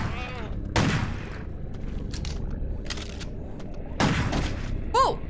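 Gunfire from a secondary weapon in the horror video game Crow Country: two sharp, loud blasts about three seconds apart, each ringing out over a steady low ambient game hum, with a short higher chirp near the end.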